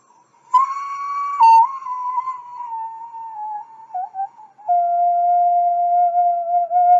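A ceramic ocarina plays a few sustained, pure whistling notes in a simple sliding melody, loud and close, with brief gaps between phrases and no talking.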